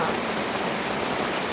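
Heavy rain pours down outdoors during coconut gathering, a dense, steady broadband hiss that fills the short stretch without a break and stays close and loud.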